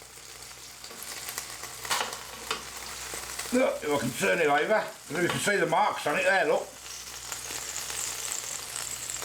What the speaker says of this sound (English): Nice sizzle as well.